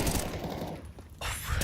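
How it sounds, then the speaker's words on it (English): Rapid gunfire during a professional Counter-Strike match, a dense crackling burst of shots that briefly thins out before another volley cuts in, with a commentator's voice woven through. "Heavy gunfire every round."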